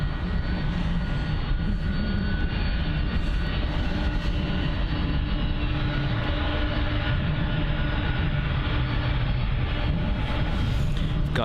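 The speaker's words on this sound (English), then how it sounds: "Here's United 767." A United Boeing 767 airliner at London Heathrow produces a steady, loud broadband engine roar with a low rumble, continuous and unbroken throughout.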